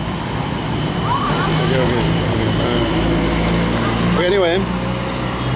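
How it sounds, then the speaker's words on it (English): Dense city traffic rumbles at a street corner in Davao City, a continuous loud roar of passing vehicles with a brief whistle or siren-like squeal near the end, while someone speaks briefly over it. "it's still very noisy here outside in the traffic."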